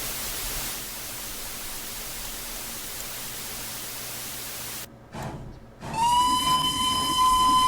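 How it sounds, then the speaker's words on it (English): A steam locomotive whistle in the Steam and Steel video game sounds after a stretch of steady hissing noise, entering with a short burst and then holding as a loud, sustained multi-tone blast. "Blow the whistle just to warn any passerby in this empty world"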